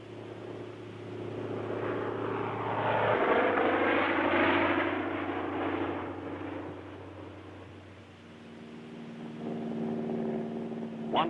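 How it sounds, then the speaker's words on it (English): American Cub spotter planes fly overhead in wartime archival film, their propeller engines droning steadily, swelling louder, then fading and returning, with no talk. "American Cub planes again proved invaluable in spotting enemy strong points."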